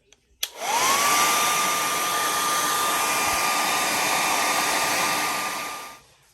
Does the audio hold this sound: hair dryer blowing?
yes